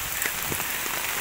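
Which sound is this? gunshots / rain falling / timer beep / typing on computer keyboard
rain falling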